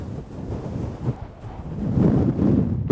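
Strong cold wind of around 30 to 40 mph gusts across an exposed wild camping spot, a continuous low rushing roar buffeting the microphone that builds louder toward the end.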